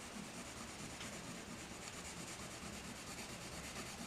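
Arteza yellow ochre colored pencil drawing on paper, a close, quiet, continuous scratchy rubbing of lead over the sheet with no pauses.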